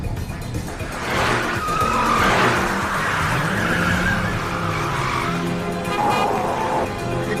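A car races at high speed with tires skidding and squealing in a movie action chase, the engine roaring loudly and continuously as the vehicle swerves.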